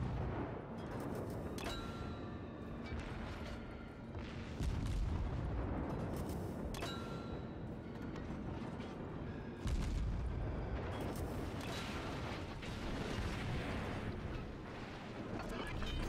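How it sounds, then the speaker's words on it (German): Warship guns fire automatically in World of Warships with the Gremyashchy destroyer, heavy booming salvos repeating every few seconds over a constant low engine and sea rumble, moderately loud. "Jetzt fangen die Geschütze ja automatisch zum Schießen an."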